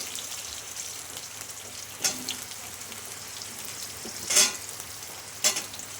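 Potatoes fry in oil with five-spice tempering for okra chorchori, a steady low sizzle punctuated by three sharper spatula scrapes or clinks.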